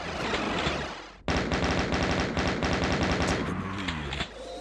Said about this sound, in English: Look at chain gun work, knowing that his opponent was vulnerable, low on health